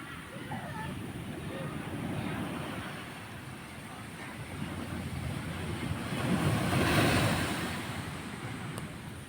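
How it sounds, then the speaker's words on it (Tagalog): Ocean surf rolls in steadily with big waves, making a continuous broad wash mixed with wind buffeting the microphone, and it swells louder toward the end. "ang lalaki ng alon"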